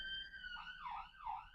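A siren wails outside, its pitch sweeping up and down in repeated swoops, loud and steady with no one talking.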